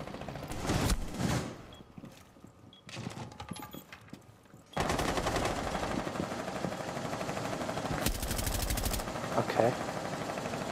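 Bursts of rapid automatic gunfire in Escape from Tarkov, loud sustained volleys broken by quieter gaps, with talk heard at times between the shots.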